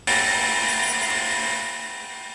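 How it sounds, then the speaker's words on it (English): Surface grinder taking two parts down to an equal thickness of about 200 thou, a steady loud whining hiss that holds level throughout with no pauses. "I'm going to flip them both over on the surface grinder like that, take them down to the same thickness, about 200 thou."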